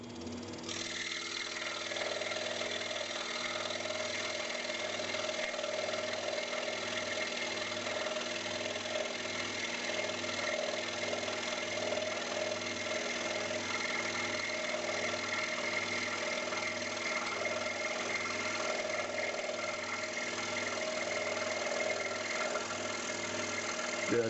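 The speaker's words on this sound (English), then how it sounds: "This time I think I'll put my blower down there so that we actually do blow the dust away" A small dust blower hums steadily and quietly beside a scroll saw cutting an intarsia seashell, a continuous motor drone with a faint rhythmic buzz that runs unbroken throughout.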